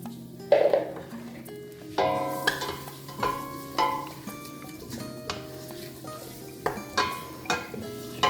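Meat searing in hot oil in a pan for a stew, sizzling steadily under a series of sharp clinks and scrapes of utensils against the pan, with no talking.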